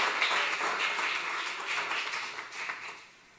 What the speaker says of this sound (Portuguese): dá uma oferta de palmas ao Senhor